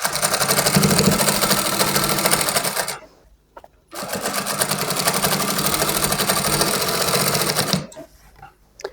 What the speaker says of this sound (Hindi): अभी इसकी हम लगाते हैं सिलाई किनारे किनारे पे।